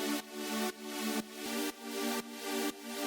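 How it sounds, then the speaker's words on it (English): Synth chord flicker from a Serum preset pack: a sustained electronic chord pulsing rhythmically on and off about twice per second, steady and loud, with no voices. "first there's this chord flicker"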